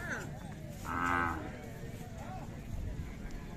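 Khillar cattle at a fair at the Siddheshwar yatra in Vijapur, Karnataka, give a loud, drawn-out moo near the middle, with crowd noise and murmured voices behind it.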